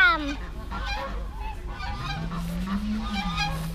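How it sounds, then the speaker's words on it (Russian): Several grey geese at a farm honk repeatedly at close range, loud nasal calls overlapping one another with a low background rumble. "Ну смотри, гуси возвращаются, Дэн."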